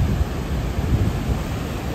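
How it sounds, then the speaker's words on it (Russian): Rushing roar of a river swollen by heavy storm rain in Antalya, a steady, loud low rumble of churning water with wind buffeting the microphone throughout. "где ходят люди обычно, сейчас прям течет, бушует река"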